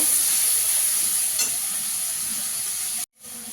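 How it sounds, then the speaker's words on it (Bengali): Ground onion paste fries in a pan with a continuous hissing sizzle that stays steady and close, then cuts out briefly near the end before resuming. "পেঁয়াজটাকে ভালো করে একটু ভেজে নেব"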